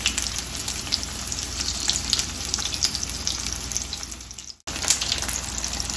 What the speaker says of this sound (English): you can obviously hear the sizzling